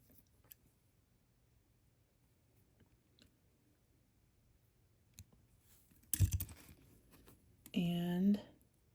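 Wire cutters snip the wrapped wire at the back of a handmade beaded statement earring, a sharp close click followed by a louder rustling, crinkly handling sound, against a quiet room.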